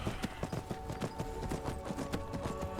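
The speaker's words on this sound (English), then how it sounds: "I'll pick up the pace on my horse." Horse hooves clip-clop in a steady, quick galloping rhythm as a rider travels across open country in Skyrim, the repeated footfalls loud and close over a faint ambient music bed.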